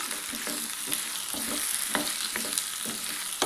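Sliced mushrooms for a mushroom paya sauté in a pan: a loud, steady sizzle runs under repeated close scraping and stirring strokes, with no talk.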